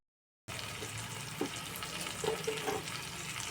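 Soaked spice paste tipped into a pan of frying tomatoes sets off a sudden sizzle after a brief silence, with soft stirring clinks and scrapes over a constant frying hiss.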